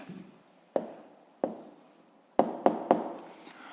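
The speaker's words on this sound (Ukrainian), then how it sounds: "Є, ну що ж, записуємо відповідь, пишемо відповідь." Pen writing an answer on paper, heard as a few separate sharp taps and short strokes, with several quick marks close together toward the end, close and quiet, with no talking.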